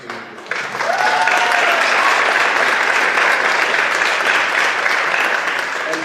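Teachers at a school board meeting receive sustained applause from the audience, a dense wash of clapping that swells in after a brief moment and holds steady and loud to the end.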